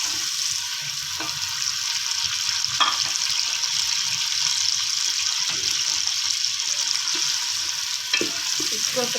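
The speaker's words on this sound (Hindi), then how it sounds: "इसमें अदरक भी हम साथ ही डाल देंगे। इनको लाइट सा ब्राउन करना है" Ginger frying in a pan as part of a chicken korma, cooked to a light brown: a steady, close, dense sizzle runs throughout, with a few brief scraping stirs near the start, around three seconds and near eight seconds, and no talking.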